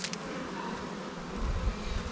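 Honey bees hum around an open hive during hive work, a continuous soft buzzing drone that stays fairly faint and swells slightly toward the end.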